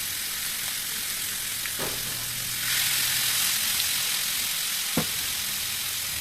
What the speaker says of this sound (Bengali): তেল গরম হয়ে আসলে একটি একটি করে 3টি চিকেন পিস দিয়ে দিলাম।